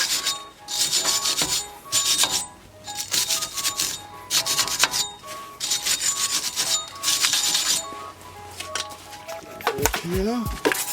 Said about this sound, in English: Clean it up with some brake cleaner.